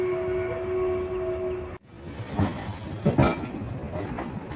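A goods train used for hauling coal runs along the track near Mettur Dam. A steady tonal whine gives way to loud, broadband rolling rumble with rhythmic clatter surges, heard close and with no talk.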